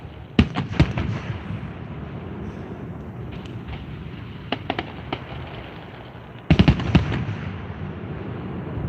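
Canada Day fireworks at Friday Harbor burst in irregular clusters of sharp bangs and crackles over a steady wind-like background, some volleys arriving in quick runs.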